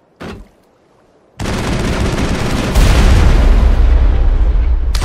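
Heavy Geth gunfire and crossfire in the Mass Effect sci-fi shooter: a short sharp crack, a pause, then a loud sustained barrage of shots and blasts that grows heavier partway through.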